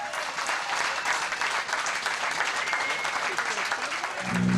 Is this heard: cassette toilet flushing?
no